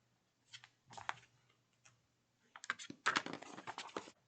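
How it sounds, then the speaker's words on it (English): A finger blade cuts away a paper overhang in short bursts of crisp scratching and ticking, two brief strokes, then a pause, then a denser run of slicing, all close and quiet. "I'll use my finger blade to just go in and remove this overhang here"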